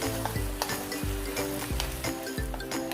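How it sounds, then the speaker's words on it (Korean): Beef with shishito peppers is stir-fried in boiling soy sauce over high heat, with a loud bubbling sizzle and a steady rhythm of spatula scrapes and clinks against the pan, close up and with no voice. "양념이 끓으면서 간장의 잔맛이 날아가면 잘 섞어서 볶아주세요."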